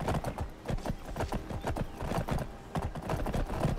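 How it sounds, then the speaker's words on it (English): Horse hooves clip-clop steadily at a walking pace in the fantasy role-playing game Wildlander, a close, continuous rhythmic patter of hoofbeats with no talking. "Our horse."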